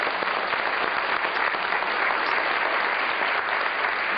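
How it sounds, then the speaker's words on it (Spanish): A studio audience at a talk on medication addiction claps steadily and fairly loudly for a guest, a dense even patter of many hands lasting a few seconds without voices. "Recibamos a Jean Paul con un fuerte aplauso."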